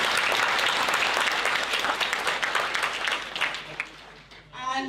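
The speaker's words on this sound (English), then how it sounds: "So round of applause for Dan, please." A conference audience at a student congress claps in a sustained round of applause for a speaker, dense and steady before tapering off near the end.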